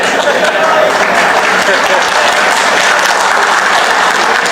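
Audience at a Punjabi political speech bursts into loud, dense applause that holds steady throughout, close and continuous.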